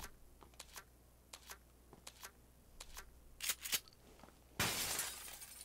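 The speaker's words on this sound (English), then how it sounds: "You have officially broken all the glass." Glass windows shatter in the PUBG video game, a burst of quiet clicks and taps followed by a few sharp cracks and one loud, crashing break near the end.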